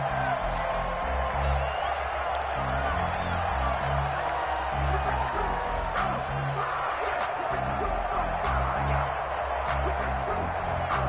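A big NFL crowd at a Baltimore Ravens versus Seattle Seahawks game keeps up a steady, dense roar of cheers and whoops the whole way through, with an announcer talking over it.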